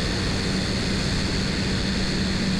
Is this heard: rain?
no